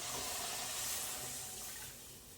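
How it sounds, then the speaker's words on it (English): Chicken broth poured into a flour roux in a pan for poblano chicken enchilada sauce, a steady close liquid rush and sizzle that tapers off near the end, with no talking. "add our liquid in"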